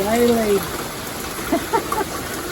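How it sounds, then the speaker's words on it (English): Rain falls steadily outdoors during a season of frequent thunderstorms, a constant hiss of drops filling the background while a person speaks over it, with a few louder splashes. "it's raining again"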